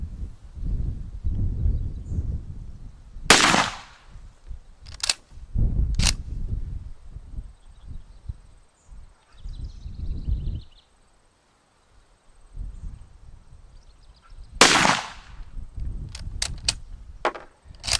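A Schmidt-Rubin 1896/11 rifle fires at a target outdoors, with two sharp, loud reports about eleven seconds apart and quieter mechanical clicks and handling noise between them.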